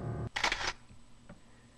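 A camera shutter clicks once in the video game Delaware St. John 3, a crisp mechanical snap with a short whirring tail, followed by a faint softer click and quiet background.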